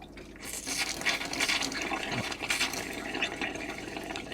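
Water spits and splatters out of a motorhome tap in uneven gushes and sputters, fairly faint and alone, as the pump draws it up from the boiler.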